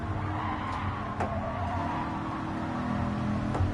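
A race car engine droning steadily in Gran Turismo 7, with quick gear-shift blips breaking the tone a few times, loud and close, with no talking.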